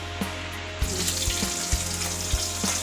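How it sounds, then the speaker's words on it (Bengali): Two pieces of fish frying in a pan, a steady continuous sizzle with occasional crackles and light clinks, no voices. "আজ মাছ ছিল 2 পিস ভাজছি"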